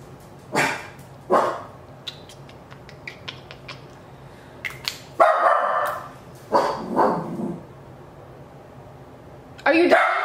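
A pet dog barks in a home during a makeup session, with several loud sharp barks and some quicker yips, mixed with a voice talking nearby.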